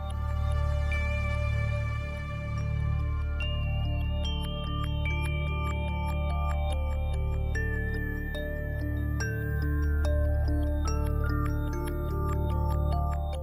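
Calm ambient video game music from Subnautica's Safe Shallows area: a soft, sustained low drone under gently shifting high melodic tones, steady and moderately quiet throughout, with no talking.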